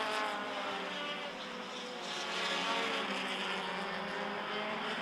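Race cars in a Midwest Dash Series feature at a short track, engines roaring steadily and continuously throughout with a broad, sustained drone that swells slightly as the field passes.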